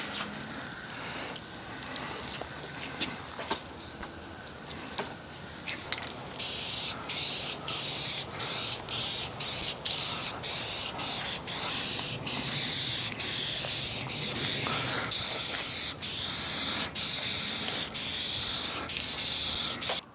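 A Flame Red aerosol spray paint can hisses in long continuous bursts, broken by short regular pauses and rattling clicks, close and fairly loud, with no voice.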